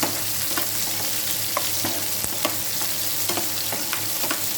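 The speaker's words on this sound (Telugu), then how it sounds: "ఇవి బాగా బ్రౌనిష్గా వచ్చేంత వరకు వేయించుకోవాలి" Chopped onions frying in a pan for pappu charu, a steady close sizzle with repeated scraping clicks of a spoon stirring them as they brown, no voices.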